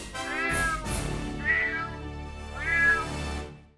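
A cat meows three times in a row, each call long and drawn out, close and clear with no talking over it.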